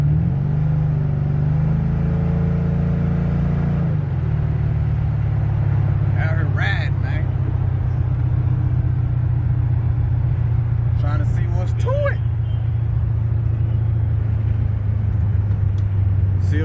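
A car moves through city traffic, its engine humming in a steady low rumble that shifts pitch as it slows and settles, with a few faint clicks and squeaks from the cabin.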